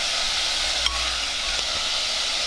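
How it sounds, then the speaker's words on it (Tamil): Mutton pieces sizzle and fry in a pan while being stirred, a constant close hiss of hot oil with a brief scrape of the spoon partway through, no talk. "அந்த மட்டன்லேருந்து நல்லா ஸ்டாக் வர்ற வரைக்கும் நல்லா மிக்ஸ் பண்ணணும்."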